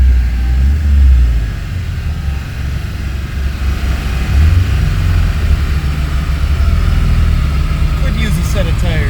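An Omni GLHS (CFX01) engine runs hard on a dyno, making a loud, steady low rumble with a constant roar that holds for the whole stretch.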